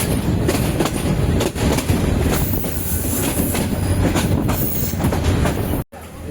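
Passenger train on the Mymensingh to Chittagong line at Gouripur station, loud and close, with continuous rumbling wheels, clattering rail joints and some squealing, briefly cut near the end.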